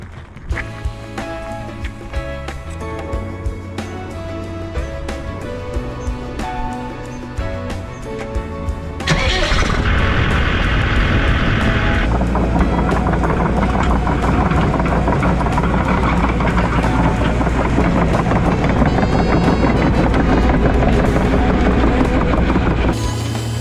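Diggers and a dumper working on a construction site moving a large load of earth, a continuous heavy engine drone with revving and idling, loud and close, swelling louder partway through.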